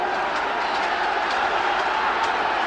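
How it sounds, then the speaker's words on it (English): A football crowd at Upton Park roars steadily behind West Ham against Swansea City, a dense, distant wall of cheering and chanting that holds at an even level throughout. "the crowd are getting behind the West Ham side to make one last big effort"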